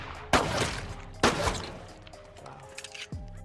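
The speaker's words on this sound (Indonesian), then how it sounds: "Dia meluapkan amarahnya sambil nembak." Two sharp gunshots from a film ring out about a second apart, followed by a fading rumble and faint background sound.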